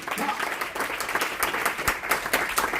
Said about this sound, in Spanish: Fuerte ese aplauso aquí.